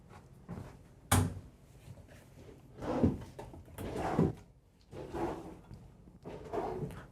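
Drawers and cupboard doors in a 2023 Newmar Essex 4521 motorhome open and close several times, with a loud sharp thump followed by softer sliding and clunking at an irregular pace, heard near and alone.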